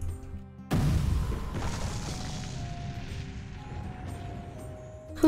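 A firework called Explosion goes off with one sudden loud boom, followed by a long crackling, rumbling decay that fades over several seconds.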